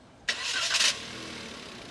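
Toyota Wigo 1.0-litre three-cylinder engine cranks briefly and catches, followed by a steady, close idle hum that settles after the initial start-up burst.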